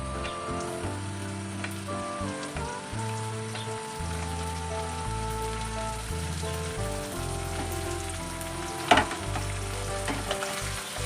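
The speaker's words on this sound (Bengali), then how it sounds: "কড়াইতে তেল দিয়েছি, তেল গরম হয়ে গেছে। এবার আমি আলু কুচিগুলোকে দিয়ে দিচ্ছি" Chopped potato and onion frying in hot oil in a wok, a soft continuous sizzle with occasional stirring scrapes and one sharp clank, mostly buried beneath gentle background music.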